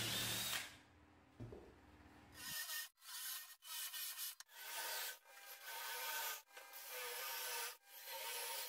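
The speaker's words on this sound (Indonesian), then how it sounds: "Lubangi semua titik yang telah ditentukan menggunakan mesin bor dibantu dengan dowel jig." Power drill boring dowel holes in meranti wood through a dowel jig, heard as a series of about six close, loud whirring-grinding bursts separated by short pauses, with no talk.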